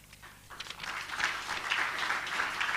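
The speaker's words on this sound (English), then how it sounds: "Please, let's give them a warm round of applause" An audience at a formal event breaks into applause to welcome the guests Dr. David Molapo and Dr. Nkosinathi Sishi, the clapping starting thin and quickly swelling into a full, sustained round.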